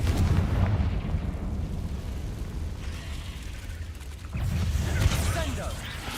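Spell explosions from the Confringo fireball in Hogwarts Legacy, heavy rumbling booms under a continuous roar of game noise, with a fresh blast surging in near the end while a voice speaks.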